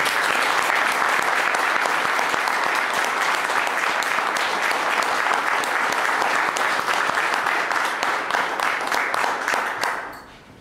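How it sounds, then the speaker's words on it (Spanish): Loud, sustained applause from a gathered crowd honoring a war veteran at a political address, dense and even for about ten seconds before dropping away sharply at the end. "Y otro muy fuerte aplauso también para el veterano de guerra Juan Domingo Frías"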